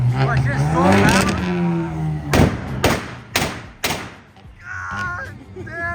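Exhaust of a Nissan GT-R popping loudly, a series of sharp, gunshot-like bangs spaced roughly half a second apart after engine revving, heard close up with people talking over it.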